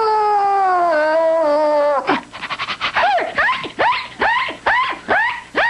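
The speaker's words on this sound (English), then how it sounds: "I guess that's why they call him Howler. Stop that ridiculous noise, Howler." A cartoon dog lets out a long, wavering howl, then breaks into a string of rhythmic yowling cries, loud and close.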